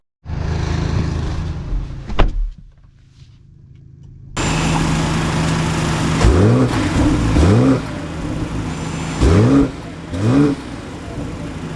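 A 2025 BMW X5 SUV pulls away, its engine humming low at first and then rising through several rev climbs with gear changes between them, heard steadily from inside the cabin.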